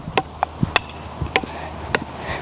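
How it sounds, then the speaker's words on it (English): Sharp metallic impacts as rebar is driven into the ground, about four heavy strikes spaced roughly half a second apart, each with a bright ringing clank, close and loud with quieter thuds between. "Then I'm gonna use my enforcer. The enforcer to hammer it in."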